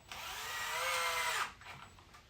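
A power drill drives a screw into wood to bury its head, whirring up and running for about a second and a half, the pitch sagging under load, then stops, followed by brief handling noise.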